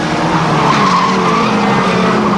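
Stock mini race cars on a speedway oval, engines roaring loud and steady with tires squealing as the field passes close.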